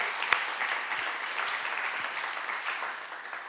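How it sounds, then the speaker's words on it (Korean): A church congregation applauding steadily during a Friday prayer service, a dense wash of many hands clapping at an even level throughout, with no voices standing out. "더 크게 하나님께 영광의 박수"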